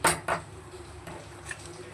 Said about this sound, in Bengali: একটু সারাশিটা ধরে নাড়িয়ে দিলাম